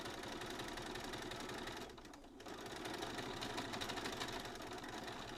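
A domestic sewing machine long overdue for a service runs steadily, its fast needle rattle and motor hum continuous apart from a brief dip partway through; quiet and close, with no talking.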